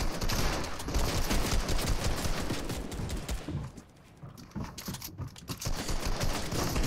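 Rapid, dense automatic gunfire pours out almost nonstop in a Fortnite Knockout match, with a brief dip in the barrage before the shots resume at full intensity.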